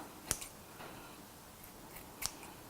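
Scissors snip through a clump of long hair cut at an angle, two sharp close crisp cuts about two seconds apart in a quiet room.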